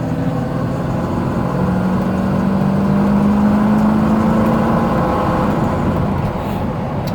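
A 1986 Ford F150 XL pickup truck accelerates hard on the road. The engine drone is steady and loud from inside the cab, and a rising tone climbs through the middle of the run.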